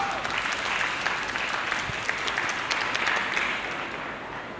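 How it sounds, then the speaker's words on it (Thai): An audience at a Thai school speech event applauds a school representative, a continuous wash of clapping heard from a distance, steady and then slowly easing. "ขอเสียง ปรบมือให้กับตัวแทนจากโรงเรียนชนกัญญานุกุลหน่อยค่ะ"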